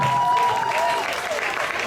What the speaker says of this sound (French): Est-ce qu'on peut applaudir pour lui également?